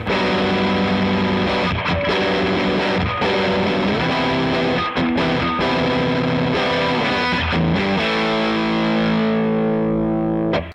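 Electric guitar driven by the PLUS overdrive/boost pedal plays a loud, saturated chordal riff with short choked breaks between phrases, then settles into a long sustained distorted chord that slowly rings out.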